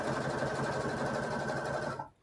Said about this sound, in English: So all we're doing is stitching the waistline